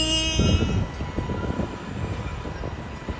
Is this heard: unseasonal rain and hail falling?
no